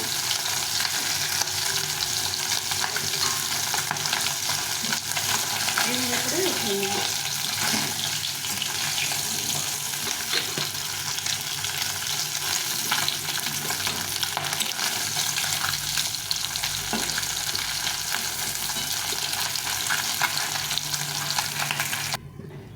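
Singi fish frying in oil, a steady loud crackling sizzle that runs throughout with occasional spatula movements, cutting off abruptly at the end.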